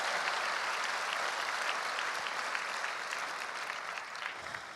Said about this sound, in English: to just ask for a round of applause for all those workers who have done an amazing job with the